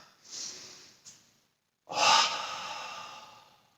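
Breathing during an at-home Pilates exercise: a soft exhale, a brief catch, a pause, then a longer, louder breath out, close and alone without talk.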